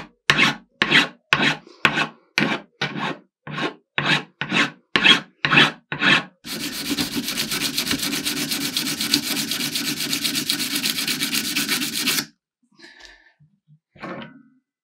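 Filing down the nut on a custom Strat guitar build: about a dozen rhythmic rasping strokes, then a sustained steady scrape of around six seconds, close and loud, ending in a few faint taps and scrapes.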